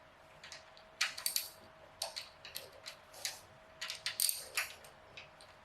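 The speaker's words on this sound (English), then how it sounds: "What we're gonna do now is loosen all the nuts." On a K24 engine, valve adjuster nuts are loosened with a ratchet, giving quick clusters of close metallic clicks and ticks in short bursts spread across the clip, with no speech.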